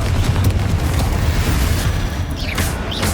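A Confringo fire-spell blast in the Hogwarts Legacy video game, set inside a tomb: a heavy, continuous booming rumble with crackling bursts, loud and close throughout.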